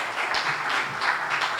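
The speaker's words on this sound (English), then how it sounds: "Let us give her a round of applause." Audience applause for a newly appointed police commissioner at a regional training event for female officers, a steady, moderately loud wash of clapping that swells and eases in short pulses with no voices over it.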